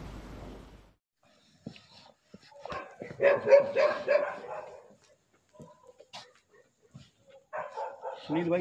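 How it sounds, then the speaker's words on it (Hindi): Dogs bark outdoors at night, a few isolated yaps followed by two bursts of rapid, fairly distant barking, with quiet gaps between them. "कुत्ते बहुत भौंक रहे हैं यहाँ पे"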